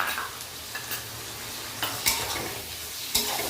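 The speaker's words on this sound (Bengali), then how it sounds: "দিয়ে মশলাটাকে একটু কষিয়ে নেব। মশলা কষানো কমপ্লিট।" Ginger, garlic and onion paste masala being stir-fried in a pan, a steady sizzle with several sharp scraping and clinking strokes of a utensil against the pan, close and alone with no talk.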